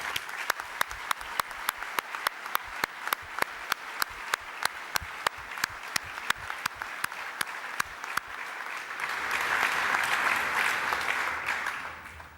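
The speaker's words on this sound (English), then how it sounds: "Graduates, would you join me in a round of applause for all of the staff?" At a Swinburne university graduation ceremony, the audience applauds the staff: crisp, evenly spaced claps sound close by for several seconds, then swell into a broad wash of crowd applause that fades at the end.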